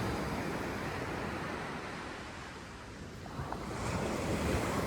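Surf washing onto a beach in Side, Turkey, a continuous loud roar of breaking waves with wind buffeting the microphone, swelling slightly toward the end.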